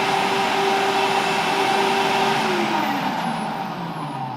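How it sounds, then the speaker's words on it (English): The Hyundai HYCH2800ES electric garden waste shredder runs continuously with its basket fitted. It gives a loud, steady motor roar with a constant whine that eases slightly toward the end, and no voices are heard. "so it started up as normal and it will run continuously"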